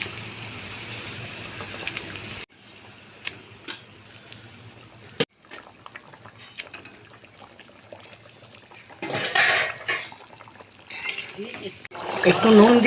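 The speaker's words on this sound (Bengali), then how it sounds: "গ্রেভিটা ফুটে গেছে, এবার মাছগুলো একটা একটা করে মাছ দিয়ে দেবো।" Pieces of fish go one by one into boiling curry gravy for a South Indian-style fish curry, making soft splashes and wet sizzling bursts amid faint utensil clinks and quieter bubbling gaps.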